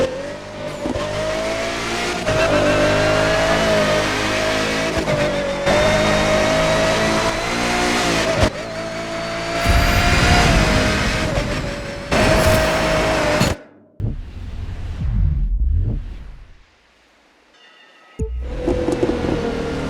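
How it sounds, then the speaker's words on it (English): A Pagani Huayra's twin-turbo 6-litre V12 in The Crew 2 revs hard in loud, rising pulls with gear shifts, then drops away into quieter gaps before roaring back. "Twin turbocharged 6-litre V12, you heard it there."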